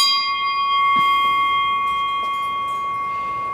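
A sustained, resonant ringing of bells at a flea market holds a steady tone throughout, loud and close, with faint market noise beneath.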